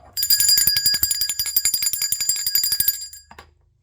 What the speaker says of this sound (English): I'm ringing the bell for that.